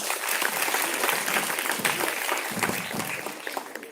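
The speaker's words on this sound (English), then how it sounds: "let's encourage her with your claps" Steady applause from an audience welcoming a student speaker at a school event, dense even clapping that continues for the whole stretch without pause.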